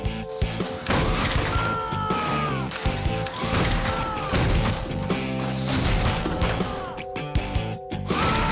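Game show contestant yanked upward and smashing through a studio roof, heard as loud crashes, thuds and mechanical clatter layered with dramatic music, with short gasps among the impacts.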